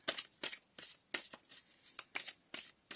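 Tarot cards are shuffled in short, crisp riffling bursts, about eight quick flutters in a row, close and quiet, with no talking.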